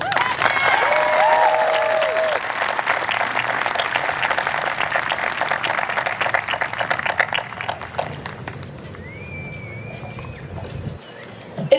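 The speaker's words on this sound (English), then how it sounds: "Let's give a big round of applause for our student speaker, graduating senior," Crowd applause at the 2024 Bexley High School graduation ceremony, loud and dense clapping sustained for several seconds, with a few whistles and cheers, then thinning out near the end.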